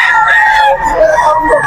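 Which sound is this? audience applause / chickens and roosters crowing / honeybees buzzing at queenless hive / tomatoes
chickens and roosters crowing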